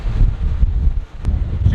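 Strong coastal wind in County Donegal, Ireland, buffets the microphone with a low, continuous rumble and gusting roar, loud and close throughout.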